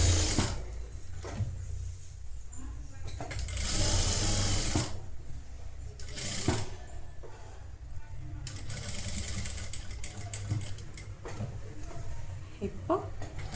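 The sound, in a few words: sewing machine stitching netted blouse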